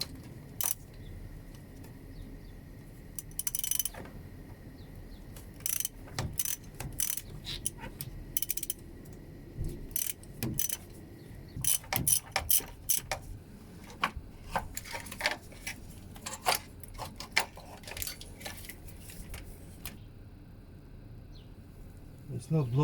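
A ratchet undoes the E10 screws on a cheap used car, giving sharp clicking bursts and short metallic ticks in irregular runs, close by, with quiet pauses between the bursts.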